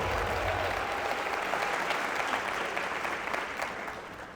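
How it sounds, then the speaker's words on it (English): An audience applauding, a dense steady wash of clapping that holds at full strength for several seconds without pause. "Give yourselves a huge round of applause."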